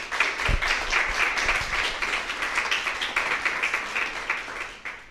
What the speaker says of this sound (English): Warm applause for these experts here.